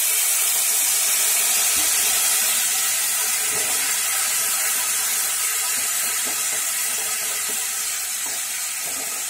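Water is poured into a hot pan of cooking vegetables, giving a loud, steady hiss of steam and sizzling, with faint clinks and stirring underneath, continuing without pause.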